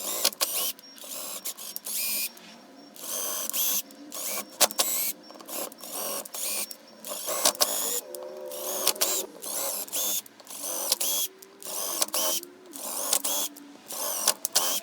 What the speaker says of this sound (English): I just went around and chased all the holes and cleaned them out